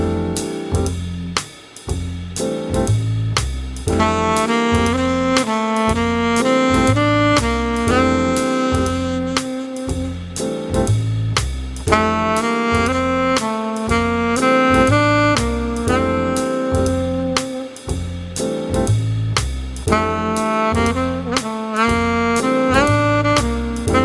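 Alto saxophone phrase repeated in a smooth improvised line over a jazz swing backing track with bass, drums and comping, continuous and fairly loud throughout.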